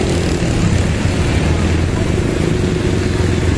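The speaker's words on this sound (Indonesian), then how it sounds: "banyak sekali motor dan mobil itu lagi muat motor." Dense, steady traffic of many motorcycles and cars at a Honda motorcycle factory in the MM2100 industrial area, Cibitung, forming a loud continuous engine roar with no breaks.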